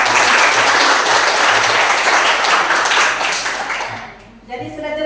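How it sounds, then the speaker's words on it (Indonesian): Classroom applause from a group of students during a mathematics lesson on probability, steady dense clapping for several seconds before fading out, with a voice speaking briefly at the end. "Kita beri aplaus."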